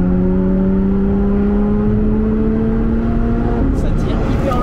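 A Lotus Exige 410 Sport engine pulls long and smoothly through the revs, its rising drone loud and close inside the cabin, climbing steadily before a gear change near the end.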